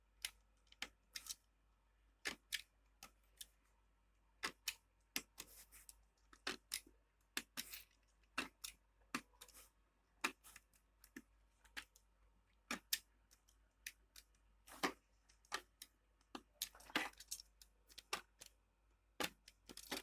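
A knife, or scissors as a substitute, nicks small cuts into bag material during handmade mini bag work, giving sharp, irregular snips and clicks one after another, close and fairly quiet, with no talking.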